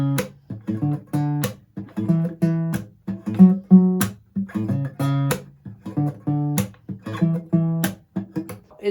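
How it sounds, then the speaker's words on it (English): Guitar bass line picked one note at a time, with percussive finger taps on the strings woven between the notes, in a steady, up-close rhythm heard on its own. "he's adding a little bit of percussion into it while he plays the bass line"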